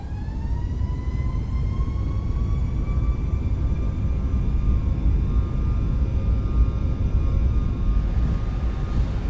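Boeing 737 MAX 8 engines spool up to takeoff thrust on a runway, heard from the cockpit as a loud, steady roar with a whine that climbs in pitch and then holds.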